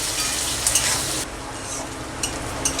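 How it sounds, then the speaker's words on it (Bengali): Onions sizzle in hot oil in a pan with fenugreek seeds while a spatula stirs them, giving close, continuous frying hiss broken by scraping strokes. "আমি পেঁয়াজটা এবার লাল লাল করে ভেজে নেব"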